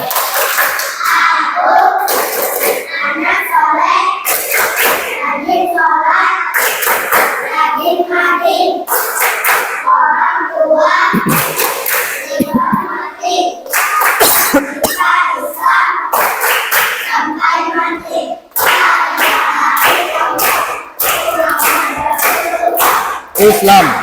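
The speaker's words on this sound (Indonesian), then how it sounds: "Coba kita ice breaking lagi. Tepuk anak soleh." Children in a classroom perform a rhythmic clapping chant, sharp repeated hand claps in steady patterned bursts mixed with loud chanted young voices, close and energetic throughout.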